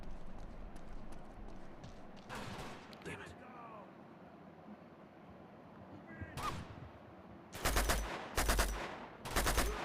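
Bursts of gunfire from the video game Uncharted 2: Among Thieves, with scattered shots early on and three loud, rapid volleys near the end, under a steady game background.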